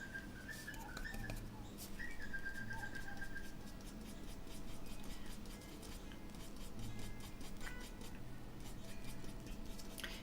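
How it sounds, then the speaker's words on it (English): Small birds chirp and whistle faintly in the background, with short repeated calls scattered over a quiet, steady room hiss. "Could you hear the birds?"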